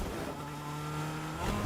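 A car driven in Fortnite Battle Royale, Star Wars edition, gives a steady engine drone with a constant hum and a slight rise near the end, heard alone with no talking.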